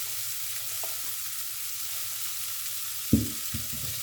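Ingredients fry in a pan in an African home kitchen, a faint continuous sizzle with a couple of brief clinks and stirring knocks near the end.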